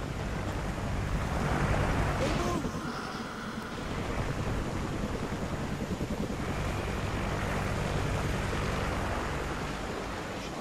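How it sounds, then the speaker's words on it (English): A helicopter in the Call of Duty: Ghosts video game roars as a broad, steady whoosh of rotor and engine noise lasting throughout, loud and constant, with no voices. "Chopper!"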